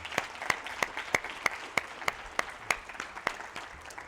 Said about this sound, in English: Big applause for Chris